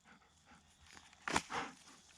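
A small dog moves about indoors, with soft shuffling and a couple of brief bursts of panting or sniffing close by, fairly faint against a quiet room.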